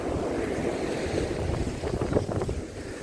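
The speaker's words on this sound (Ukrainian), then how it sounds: "Ну, вітер серйозний сьогодні." Strong wind buffets the microphone in a constant roar, with waves washing underneath by the sea at sunrise on Langeron beach in Odesa.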